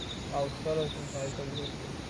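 A voice repeatedly imitates insect chirps in a quick rhythmic series, over a faint, steady high-pitched insect drone outdoors.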